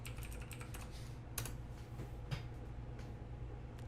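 Fingers tap a computer keyboard entering a zip code, a quick run of faint, close keystrokes followed by a few slower, separate clicks, with a low steady hum underneath.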